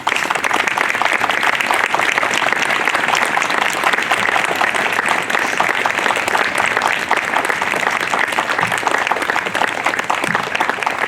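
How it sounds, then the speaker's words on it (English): A standing audience at a school Veterans Day assembly gives a long round of applause for veterans, a dense, continuous crackle of clapping from many hands in a large room, steady and loud throughout. "everyone please stand and give all our veterans a round of applause"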